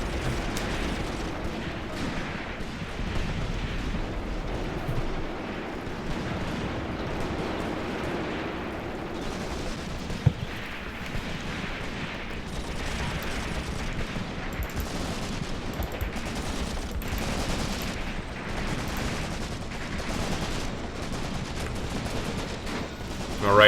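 Simulated WW2 combat in the Graviteam Tactics video game, with continuous, fairly quiet gunfire and distant artillery rumbling as a dense background wash with a few sharper reports, under occasional faint voices.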